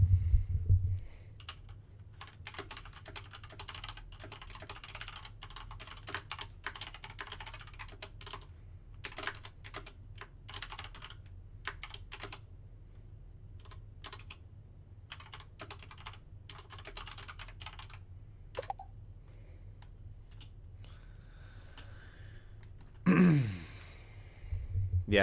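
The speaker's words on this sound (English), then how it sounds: "Oh, you're going to hear clickety keyboard." Bursts of typing on a computer keyboard, clicks coming in quick uneven runs with short pauses, fairly close and moderately loud over a low steady hum, with a brief breathy sound near the end.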